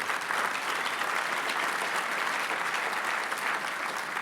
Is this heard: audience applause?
yes